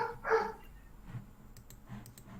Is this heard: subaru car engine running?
no